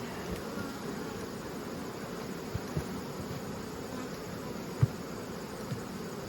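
A honey bee colony in an open hive buzzes as a faint, steady drone with a few soft clicks and knocks of handling mixed in.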